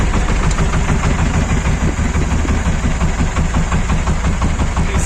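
A motor cultivator fitted with hedgehog weeders, working potato rows, idles with a steady, loud, close-up engine chug and constant vibration throughout.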